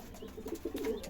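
Domestic pigeons in a pigeon loft cooing close by, soft low rolling coos repeating several times over a short span, no talk.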